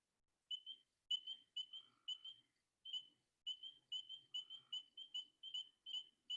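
A frog call from the Chicago area is played back: a series of short, clear, laser-like chirps in quick groups with brief gaps, faint and isolated against silence.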